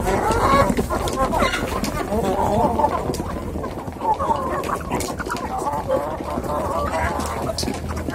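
Backyard chickens cluck and chatter while feeding, a busy close flock of soft repeated clucks and squawks mixed with rustling, someone talking over them in Vietnamese.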